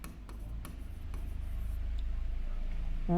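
A pen scratches on paper while a maths problem is worked out, a soft continuous scratch with a few faint taps, close and quiet under a low background hum.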